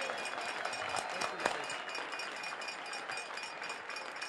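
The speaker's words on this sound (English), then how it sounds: "round of applause to Roy Steele" A stadium crowd at an A's ballgame applauds in honor of longtime public address announcer Roy Steele, a dense, distant wash of clapping that holds steady with a few sharper claps standing out.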